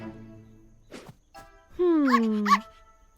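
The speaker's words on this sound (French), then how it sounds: "un des chiots a suivi Buster dehors." A cartoon puppy following the dog Buster outdoors gives a few soft yips and small sounds, then a longer, clear whimpering whine with a falling pitch near the end; the sounds are close and play alone.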